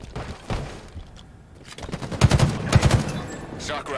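Gunfire strikes a player in Halo Infinite during a ranked slayer match, with scattered shots and impacts building into louder clustered bursts in the second half, mixed with game sounds and a voice.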